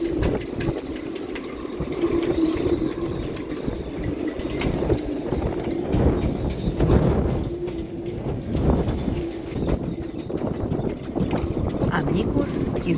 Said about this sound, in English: Loud wind and ropes beat on the masts.